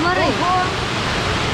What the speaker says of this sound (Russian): Сейчас мы идем на водопады Белые мосты.